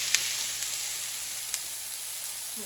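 Rehydrated freeze-dried vegetables sizzling steadily in a pan over medium-high heat, a soft, even hiss with a few faint clicks of stirring.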